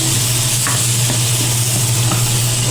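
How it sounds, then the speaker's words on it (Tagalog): Garlic and onion sautéing in butter with granado powder, a loud continuous sizzle with an underlying hum and faint stirring scrapes, close and steady throughout, no voices. "nag-isa lang tayo ng bawang dito sa butter at lagyan natin ng granado powder. Tapos lagyan natin itong sibuyas"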